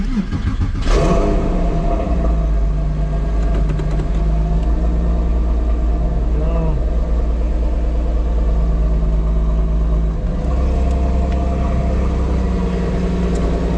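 A 2004 Porsche 911 40 Jahre Anniversary Edition fitted with an aftermarket track wheel cranks and fires up with a sharp rev, then settles into a steady, loud, close idle that dips and returns near the end.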